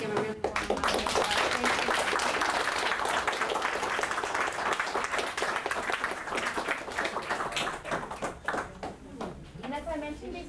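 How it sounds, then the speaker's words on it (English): A lecture audience in a university history department gives a warm round of applause, steady dense clapping lasting around ten seconds before tapering off, with a voice emerging near the end. "please give a really warm round of applause"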